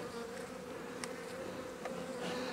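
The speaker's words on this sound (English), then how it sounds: "I think this is mostly just robber bees, I swear I do." Robber bees swarm around a beehive during a spring hive inspection, a dense, continuous close-up buzz with a few sharper wingbeat passes and no talking.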